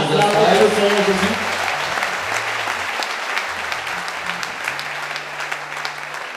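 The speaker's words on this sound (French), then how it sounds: "Clap for our Lord Jesus" A church congregation applauds loudly at a worship service, the clapping strongest at first then continuing steadily while a voice speaks over it.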